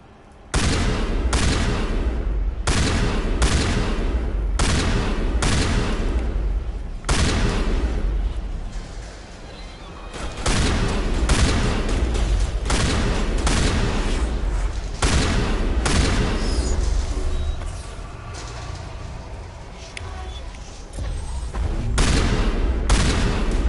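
Heavy shotgun blasts and gunfire in the video game Mass Effect Legendary Edition, a long series of loud, evenly spaced booming shots in rhythmic clusters, with short pauses between volleys and no talk.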